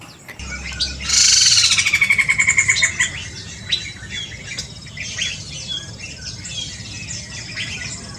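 A large aviary holding several bird species, some critically endangered, fills with a loud, dense burst of chirps and squawks that tapers off into scattered tweets and calls from birds nearby and farther away.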